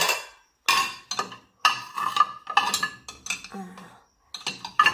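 Clean plates, bowls and spoons are crammed tightly into a dishwasher rack for its first run, giving a string of close, sharp clinks and clatters in separate bursts with short pauses, and no talking.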